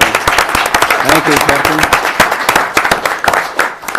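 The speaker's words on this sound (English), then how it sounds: "Let's give them a round of applause." Audience applause at a city council meeting honouring police officers promoted from patrolman to corporal, steady clapping filling the room throughout while someone speaks briefly over it.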